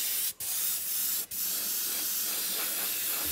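An airbrush sprays sealer over white paint in a continuous, close, loud hiss that cuts out twice very briefly before carrying on steadily.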